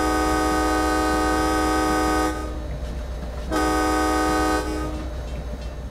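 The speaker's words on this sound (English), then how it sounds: "The horn just sounds so amazing." An MBTA F40PH-3C locomotive horn in Train Sim World 2 blows loud and close in two long chord blasts over steady engine rumble.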